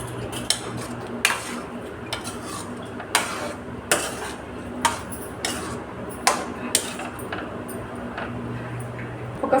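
A spoon scrapes and clacks against a metal pot while mashed dal is stirred with drumstick and carrot pieces, sharp irregular knocks spaced about a second apart over a low background hum.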